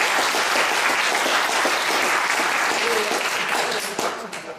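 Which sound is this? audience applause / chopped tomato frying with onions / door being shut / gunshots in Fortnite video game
audience applause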